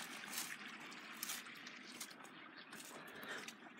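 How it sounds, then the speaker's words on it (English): Water flows steadily through a large metal culvert carrying a road near a Warren pony truss bridge in Pawnee County, a faint continuous rushing trickle with no voices. "You can see there's quite a bit of water moving there right now."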